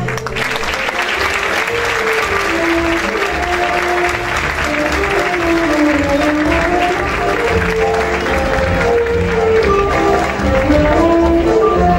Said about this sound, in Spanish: un sincero aplauso.